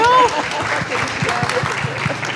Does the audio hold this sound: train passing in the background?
no